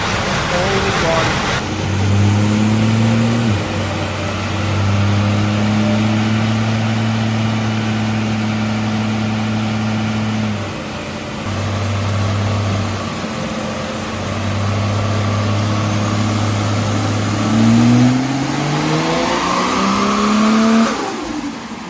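A Barra turbo Ford Falcon ute engine on a dyno runs loud and close, holding long steady revving pulls that break off, resume, then sweep upward before the sound drops away. Traces of voices can be heard beneath the engine.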